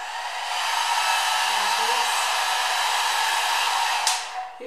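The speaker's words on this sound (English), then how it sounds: "how about I blow dry my hair, you know, so that maybe it's gonna look much better" Hair dryer blowing on wet natural 4C hair, a loud close steady whoosh that runs unbroken for several seconds and then shifts briefly near the end as it moves.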